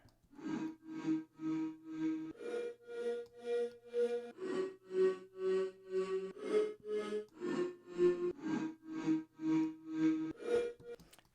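A synth sample distorted in Serum repeats in short rhythmic pulses, gritty and buzzing, with the pitch stepping between a few notes.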